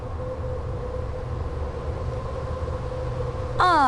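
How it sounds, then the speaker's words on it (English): Steady low rumble and hum of a steam-era Orient Express train idling at a station in a Murder on the Orient Express video game, a constant mechanical drone with a faint tonal whine, ending in a brief rising hiss or squeal. "The train better get moving soon."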